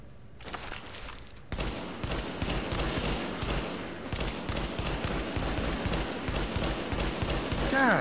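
Rapid bursts of automatic gunfire in the video game Tom Clancy's The Division, dense repeated shots firing loudly and almost continuously after a brief quieter opening, with a voice talking over part of it.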